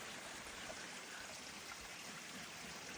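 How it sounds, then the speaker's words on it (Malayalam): Steady, gentle trickle of spring water running out of a cave, continuous and even, with no voices. "ഇതിൻ്റെ ഉള്ളിൽ നിന്നാണ് നമുക്ക് വെള്ളം വരുന്നത് ഇതേപോലെ ഇങ്ങനെ ഒഴിച്ചു വരും"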